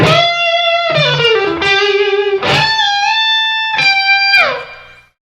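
Electric guitar played through an effects pedal in the middle pickup position: a handful of sustained, bright distorted notes and bends with pitch slides between them, loud and close, the last note fading away, no talking.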